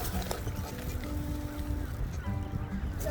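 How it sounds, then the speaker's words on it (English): A duck at a pond gives a few honking quacks amid outdoor background noise, with faint voices nearby. "There's a duck behind you."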